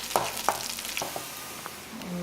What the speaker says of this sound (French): En fait, c'est plus que cuire, c'est carrément frire.